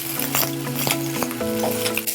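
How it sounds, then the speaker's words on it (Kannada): Loud sizzling in a hot pan with scraping stirring strokes, a spatula working cooked rice into frying onions for a couple of seconds. "ಈ ಒಗ್ಗರಣೆನಲ್ಲಿ ಬೆಂದಿರುವಂತ ಈರುಳ್ಳಿಗೆ ಈಗ ಬೇಯಿಸಿರುವಂತ ಅನ್ನನ ಸೇರಿಸ್ತೀನಿ"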